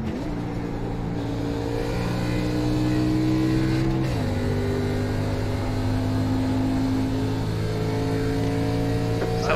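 A K&N race car engine in iRacing drones loudly at steady revs, then drops pitch sharply as it downshifts around four seconds in and climbs again, a continuous close engine note with no talk.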